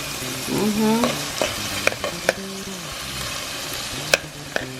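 Tomato sauce sizzles in a frying pan for Haitian salt fish, a steady bubbling fry with occasional sharp utensil clicks and stirring.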